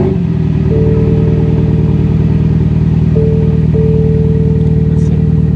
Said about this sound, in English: Let's start the car, it's been a while.